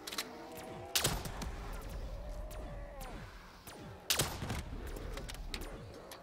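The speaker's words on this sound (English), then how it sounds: "At least I can start the shooting." Gunshots in Der Riese zombies, sharp loud reports with a couple of heavy blasts and scattered lighter shots, ringing tails and low rumble between them.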